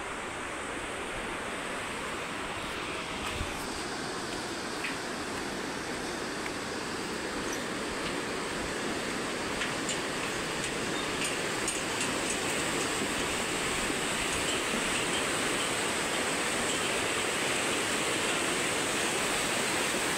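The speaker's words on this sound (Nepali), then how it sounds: "त्यो रोसी खोला" The Rosi river (Roshi Khola) beside Nepal's storm-damaged BP Highway rushes in a steady, dense roar of flowing water, continuous and unbroken, with no voices.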